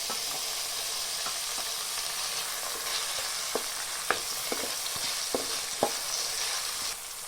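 Onions and finely chopped tomato pieces frying in a pan for rice ganji soup, a constant close sizzle with occasional soft stirring taps and clicks, no voices.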